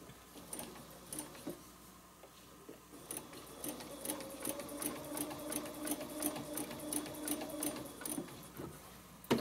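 Sewing machine stitching a spider web project, with rapid rhythmic needle clatter in short bursts, then a longer steady run with a mechanical whir, close and moderately loud.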